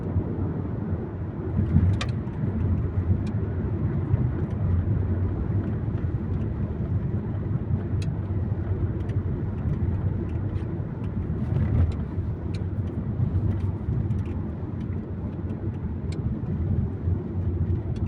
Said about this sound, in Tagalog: kaya talagang traffic po dito